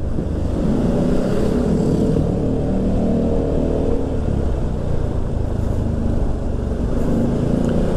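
A 2023 Yamaha Xmax scooter engine roars loudly and continuously, its pitch climbing and falling as it revs, heard close up with no speech.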